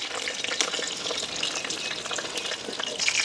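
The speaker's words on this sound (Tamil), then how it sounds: "பார்த்தீங்கன்னா சுசியம் அப்படியே சுட்டு முடியுது" Jackfruit-seed susiyam fritters fry in hot oil in a pan, giving a steady, dense sizzle with crackling pops throughout, close and continuous with no voices.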